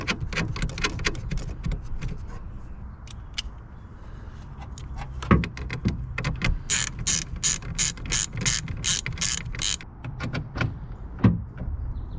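A hand ratchet tightening a wire nut on the engine wiring harness junction block of a 2014-19 Chevrolet Silverado or GMC Sierra pickup, with steady rapid clicking that speeds into a sharp burst of close, loud ratcheting before slowing again.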